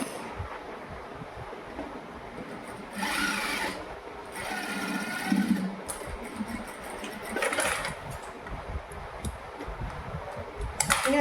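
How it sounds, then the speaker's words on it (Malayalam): A sewing machine stitches cloth for straight pants in several bursts of rapid mechanical whirring, with quiet gaps between runs and a close, clattering rhythm; nobody speaks. "ഈ ഒരു ക്ലോത്തിൽ നമ്മൾ ഇവിടെ നിന്ന് സ്റ്റിച്ച് ചെയ്ത് കൊടുക്കാം"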